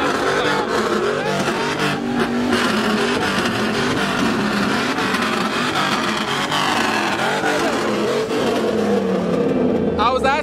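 A cammed, LS-swapped Tahoe with no muffler revs loudly at a truck meet, its rough engine noise rising and falling under nearby chatter and crowd voices.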